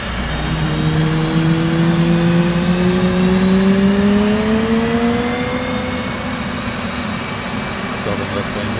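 Jet engine starting up in DCS World flight simulator during carrier landing practice: a steady loud whine that climbs slowly in pitch as it spools up, with a constant roaring rush underneath.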